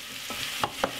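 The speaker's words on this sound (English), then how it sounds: "Then we're going to put in the string bean." String beans sizzle in a pan of stir-fried vegetables, a close steady hiss with a few quick scraping stirs toward the end.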